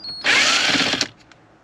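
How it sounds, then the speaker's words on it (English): A powered driver spins out one of four 8mm bolts holding a Range Rover Sport climate control panel. The high whir is close and loud and lasts under a second, then stops with a small knock. "I'm going to remove these 4 8mm bolts."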